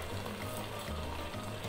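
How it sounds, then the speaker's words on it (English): Chicken frying and browning in an electric pressure cooker while pilau is made, a steady close sizzle heard alone with no talking. "So I can see my food is frying nicely, the chicken has browned."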